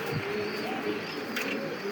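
Black German Shield pigeons sitting on eggs give soft, low, continuous cooing at a fairly faint level, with no one speaking.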